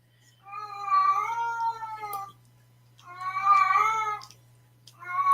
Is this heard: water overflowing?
no